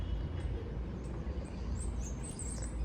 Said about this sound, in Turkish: Kuşların sesine bak Lina.